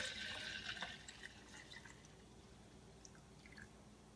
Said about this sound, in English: I'm just going to pour it in.